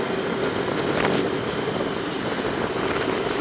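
Steady cyclone wind in Jaffna rushes and buffets against the microphone, a continuous loud roar with low gusty rumbling and no voices.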